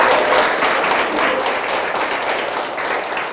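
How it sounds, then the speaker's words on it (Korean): An audience at a business lecture breaks into applause, a full, even burst of clapping from many hands that tapers slightly over a few seconds. "박수 부탁드리겠습니다."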